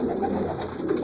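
Pigeons coo steadily and close by inside a nesting loft, a soft, throaty rolling murmur with no talk over it.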